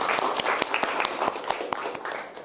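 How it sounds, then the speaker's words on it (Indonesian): A small group of students claps in a classroom with sharp individual claps in an uneven rhythm. It is moderately loud and fairly close, with no talk. "Tepuk tangan untuk kalian semuanya."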